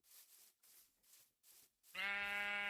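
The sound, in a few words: sheep bleating in Minecraft video game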